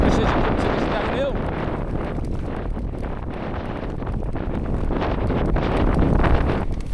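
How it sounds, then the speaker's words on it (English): Strong wind buffets the microphone during a mountain bike descent, a steady loud rushing roar that fills the whole stretch without letting up. "that wind, it's a strong wind"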